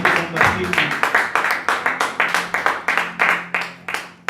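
Congregation applause at a Spanish-language church worship service, steady rhythmic clapping in quick repeated bursts throughout, fairly loud and close, with a faint voice underneath.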